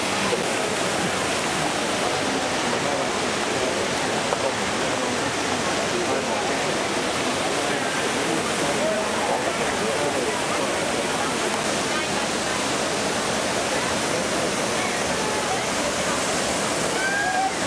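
Water pours continuously at a monument fountain at the end of the ancient Roman aqueduct called the virgin water, a steady, dense rushing roar close by, unbroken throughout.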